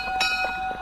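A tram carriage rolls along in the Mad City video game, a steady rumbling, ringing ride noise with faint clanks, continuous and fairly loud, with no talking.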